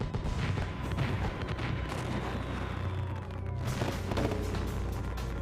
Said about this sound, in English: thousands of fireworks explode and spray the surrounding areas